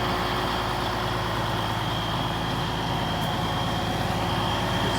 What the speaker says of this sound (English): Another quick view of the tractor. That is a nice sounding motor.